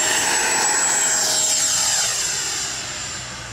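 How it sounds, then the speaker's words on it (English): An FMS Integral 80mm electric ducted-fan RC jet on a high-voltage lithium pack takes off with a loud, steady high-pitched whine and rushing air. The sound holds strong, then fades slightly as the jet pulls away. "taking off one more time"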